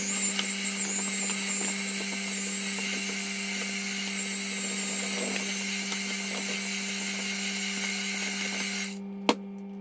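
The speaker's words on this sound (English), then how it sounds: "I'm going to mix it up with my whisk" A whisk churns banana and chocolate spread into nearly finished ice cream, giving a steady, close mechanical whir with a constant hum that runs without a break and cuts off abruptly near the end, followed by a single sharp click.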